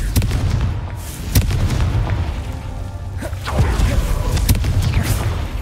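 Booming blasts from the Confringo spell in a Harry Potter video game, several sharp bursts over a steady rumbling game backdrop, loud and close.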